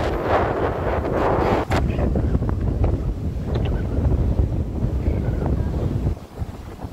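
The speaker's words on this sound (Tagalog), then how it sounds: "Lakas ng hangin." Strong gusts of wind on sand dunes buffet the microphone in a loud, continuous roar that briefly eases near the end.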